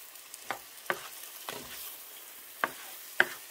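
Bitter melon with egg cooks in a pan, a faint low sizzle with a handful of sparse sharp pops and clicks at irregular intervals, close and quiet.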